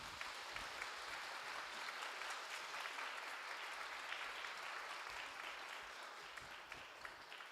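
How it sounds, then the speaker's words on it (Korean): Steady applause from an indoor church audience welcoming a guest speaker at a Sunday morning service, even and sustained throughout without breaks. "여러분 우리가 크게 박수로 한번 환영하도록 하겠습니다"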